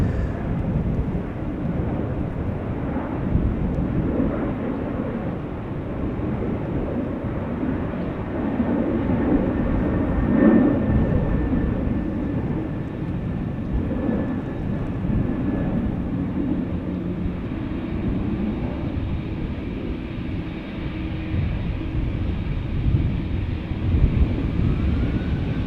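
Aer Lingus Airbus A320 departing Amsterdam Schiphol for Dublin, a loud, steady, broadband jet roar that holds evenly across the whole stretch with no voices.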